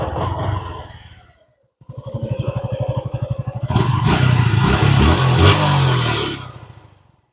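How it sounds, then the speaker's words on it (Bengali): A 2025-model motorcycle engine idles with a rapid, rough putter, cuts out briefly, then restarts and rises into louder revving before fading at the end, close to the listener. "এবার আমরা পঁচিশ সালের বাইকের সাউন্ডটা দেখানোর চেষ্টা করব"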